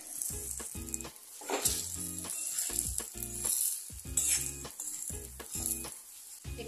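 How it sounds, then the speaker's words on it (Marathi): Spice masala and pieces of spicy rolled vadi fry in a tempering, a close sizzle broken by rhythmic scraping and stirring strokes of a spoon in the pan. "हा मसाला थोडा परतायचा आणि ह्या वड्या याच्यामध्ये घालून घ्यायच्या"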